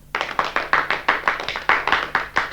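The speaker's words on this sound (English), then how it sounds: "I think Miss Tablet would prefer us to reserve our applause to the end of her lecture recital." Hands clap in a radio play, a short cluster of about a dozen sharp, evenly spaced claps from a small audience, close and dry, with no voices.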